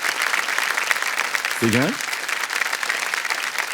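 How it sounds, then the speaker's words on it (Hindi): A studio audience on a TV game show with a contestant in the hot seat claps in a dense, even wash, interrupted by a brief spoken phrase from a man partway through. "कम ताली बज जाए इनके लिए"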